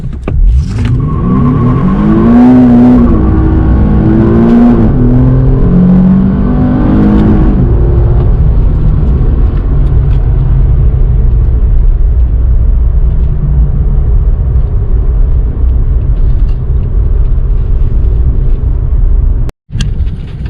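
A stock base-coupe Nissan 370Z pulls hard in first gear with traction control off, its engine close and loud, revving upward in a rising howl before settling into a steady, roaring drone on the road.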